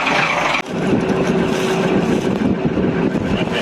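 Engine of a 122-year-old Dutch barge leaving port at Vlissingen, a steady low mechanical drone heard close up with wind buffeting the microphone and no talk.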